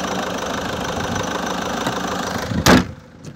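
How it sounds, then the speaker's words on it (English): A car engine with 185,000 miles idles with a steady low rumble and faint knocking, close by, ending with a brief louder clunk near the end. "So you can hear and see the engine there."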